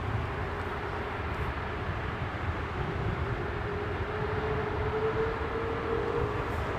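An Airbus A330-300 with Trent engines departs Heathrow, its steady low jet roar rumbling continuously at a distance with a rising whine tone building gradually.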